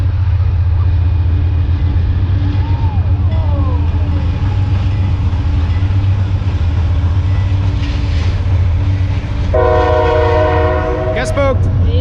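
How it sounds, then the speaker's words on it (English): A train passes in Maine with a steady, loud rumble, then sounds its horn in a long multi-tone blast near the end, followed by a brief high squeal. "Different train."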